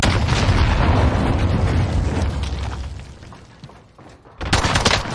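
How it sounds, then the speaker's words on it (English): Heavy gunfire and explosive booms in Call of Duty Warzone, loud and dense, a sustained barrage that thins out before a sharp loud burst returns near the end. "Taking fire!"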